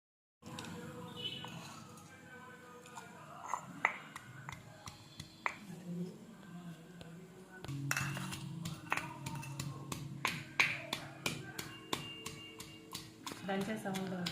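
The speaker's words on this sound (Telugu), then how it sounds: "దంచే సౌండ్" Cinnamon and cloves for a mutton curry are pounded by hand. Rapid, rhythmic sharp knocks fill the second half after quieter taps and a voice talking earlier.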